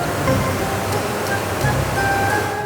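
Steady rushing water pours and churns continuously at close range in a chili-processing produce washer, a dense broadband wash with no voices.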